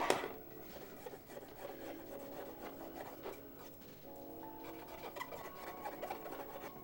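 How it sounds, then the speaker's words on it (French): A brush or cloth scrubs the side expansion port of a Sega Genesis console with steady, close rubbing and rasping strokes that continue throughout. "On va nettoyer aussi le port sur le côté."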